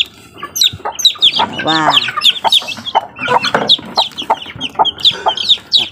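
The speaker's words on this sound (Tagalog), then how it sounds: "lagyan natin itong sisiw at ang ingay" Three-day-old baby chicks peep and cheep noisily in constant high chirps, with a hen clucking close by and a voice briefly counting over them.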